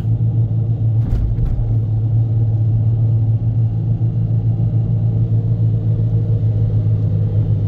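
A Toyota car with a semi-automatic MMT transmission and fault codes P0810 and P0900 runs in first gear at about 3000 RPM, a loud, steady low engine drone with a couple of faint clicks early on.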